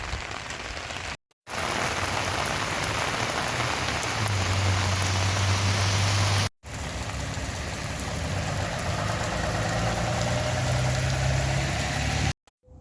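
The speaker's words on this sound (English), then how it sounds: "It is dawn and it's still raining." Steady rain falls at dawn in the Arizona desert, a dense, even hiss of drops on surfaces that runs continuously with a couple of brief cuts, while a faint low hum sits underneath.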